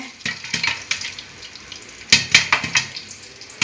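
Popcorn kernels pop inside a covered pan on the stove, sounding as scattered sharp little bursts over a soft sizzling background, sparse at first and then coming in a quicker cluster.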